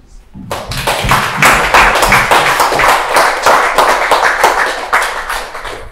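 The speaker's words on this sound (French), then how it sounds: "nous devons frapper les mains, nous devons applaudir tout ce qu'elle a accompli ici sur terre" A gathered crowd bursts into loud, sustained applause honoring a deceased woman at a memorial tribute, many hands clapping densely and close after a brief quiet start.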